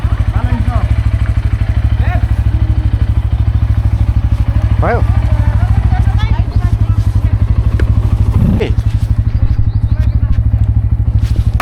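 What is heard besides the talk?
motorcycle riding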